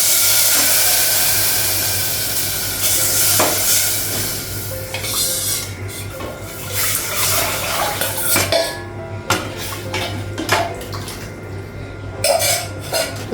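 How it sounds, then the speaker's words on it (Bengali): Garlic tempering for Bengali masoor lentil dal crackles in a hot pan, with pots and utensils clattering and stirring scrapes throughout, close and fairly loud, no talking. "রসুন দিয়ে ডালটা ফোড়ন দিলে"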